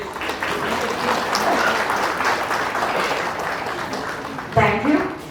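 A big round of applause from the audience at a Manipur State Commission for Scheduled Tribes foundation day event, dense steady clapping that fills the room before a voice comes in near the end.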